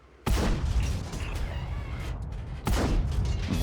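The main gun of an ST 62 v2 Soviet medium tank fires in a video game, two heavy booming shots a couple of seconds apart, each followed by a long rumbling decay.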